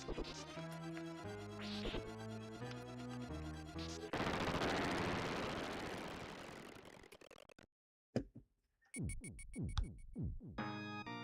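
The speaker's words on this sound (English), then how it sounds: "I think I heard a bunch of gunshots outside, like a machine gun." Rapid bursts of machine gun fire rattle amid loud crashing and a sustained noisy roar, followed by sharp, closely spaced shots.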